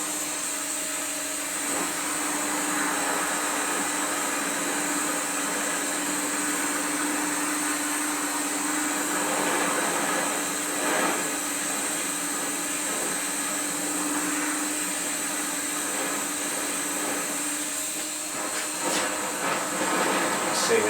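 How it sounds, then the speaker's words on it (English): A burning torch flame roars continuously while heating a trials motorcycle frame tube, a steady, fairly loud hiss with a faint tonal hum running underneath for the whole stretch. "This is the burning torch head on here, so if you leave it in one place too long, you've got a good chance of just burning a hole through the tube."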